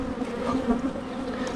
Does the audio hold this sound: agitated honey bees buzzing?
yes